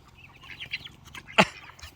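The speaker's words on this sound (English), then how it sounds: "Jerry, my rooster." A rooster on a farm gives a few soft, close clucks and then one sharp, louder squawk near the end, with quiet hen chatter faintly behind.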